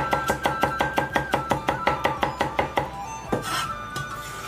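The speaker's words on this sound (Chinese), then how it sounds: "大蒜来个六七颗，用刀撇破，裹着生姜一起剁成姜蒜末。" Knife chopping garlic and ginger together into a fine mince on a board: about fifteen quick, even, close thuds in steady rhythm, then a brief scrape and a few looser taps as the chopping stops.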